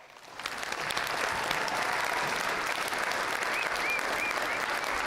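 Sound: church congregation applause

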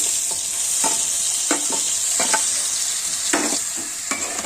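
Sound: onion paste frying and stirred in oil

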